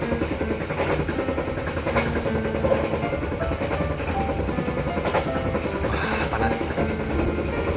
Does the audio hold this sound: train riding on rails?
yes